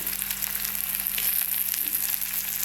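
Chopped onion and green chillies frying in a pan give off a dense, steady hiss and crackle, close and even throughout the brief stretch, with no stirring strokes or speech standing out.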